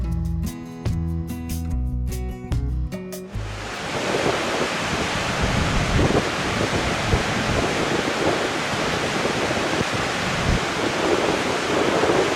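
Waves over 1.5 meters high and freezing wind on Lake Michigan make a loud, continuous roar and rush that follows a few seconds of music at the start.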